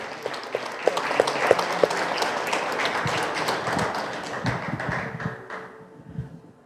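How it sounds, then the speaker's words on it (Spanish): Steady applause from an audience at a book presentation, the clapping of many hands sustained and fairly close, thinning out toward the end. "quiero pedirles un aplauso para su autor"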